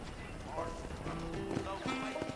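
Horse hooves clip-clop on a town street in Armadillo in Red Dead Redemption, steady close steps with a brief whinny, under someone talking.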